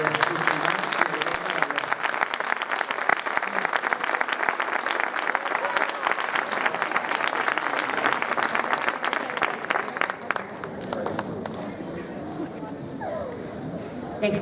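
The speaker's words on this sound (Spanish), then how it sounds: "Un aplauso, pues, para Paula Lladró." A graduation ceremony audience gives long, steady applause, loud and dense for about ten seconds before easing slightly and continuing more softly to the end.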